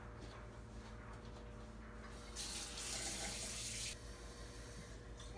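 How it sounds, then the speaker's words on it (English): Hot water runs from a tap in a steady, hissing rush for about a second and a half, set against a low background hum, then cuts off. "I like to fill up my jar a little ways, an inch or two, with really hot water"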